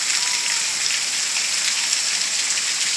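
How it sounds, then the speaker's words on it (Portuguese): Heavy rain pours down in the Brazilian sertão, a loud, dense, unbroken hiss of drops striking surfaces close by. "Chuva boa mesmo."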